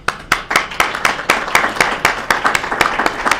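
Close, loud hand clapping at a December recognition ceremony, sharp individual claps in an irregular but steady rhythm from a small group, with no talking over it.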